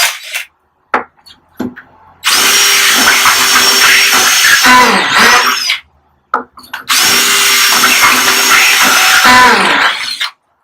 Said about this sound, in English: and then we're going to drill all the way through